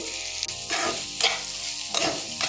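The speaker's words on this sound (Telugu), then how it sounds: "ఉల్లిపాయలు అట్లాగే గోబీ అయితే బాగా తిప్పుతూ ఉండాలండి, లేకపోతే అడుగున మాడిపోయిద్ది అనమాట" Chopped onions and cauliflower fry in a pan and are stirred briskly. Scraping strokes come in about three distinct sweeps over a constant close sizzle, with no talking.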